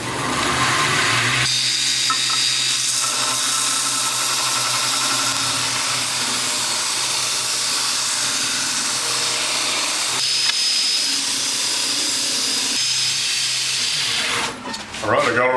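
A 2x72 belt grinder runs loud and steady as a Damascus steel billet is ground clean, a continuous harsh whine and hiss holding for most of the stretch before briefly dipping at the end.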